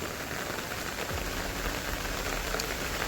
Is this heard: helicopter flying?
no